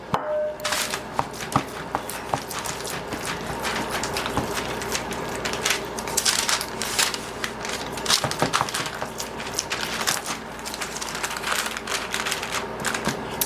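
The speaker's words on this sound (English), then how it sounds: "I'm going to pat it out into a rectangle" Hands patting and pressing ground meat flat into a thin rectangle for a stuffed meatloaf, a close run of irregular soft slaps and taps with brief pauses.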